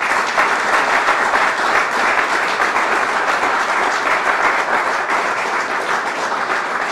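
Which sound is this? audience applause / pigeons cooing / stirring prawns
audience applause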